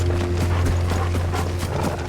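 Horse hooves clip-clop in a quick, steady gallop rhythm in Final Fantasy XVI, loud and close over a low droning hum.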